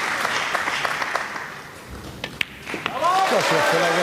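Crowd applause breaking out at a professional pool match at the European Open, a steady wash of clapping throughout with a few sharper hits and a commentator's voice layered over it.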